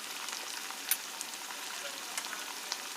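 Ginger garlic paste frying in a pan gives a quiet, steady sizzle with scattered soft crackles and pops, no voices over it.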